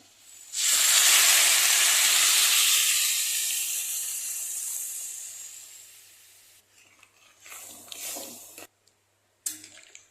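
Hot water poured into a pan of cooking vegetable khichuri gives a loud, sudden steaming hiss that slowly fades over several seconds, followed by a few short wet squelching sounds nearby.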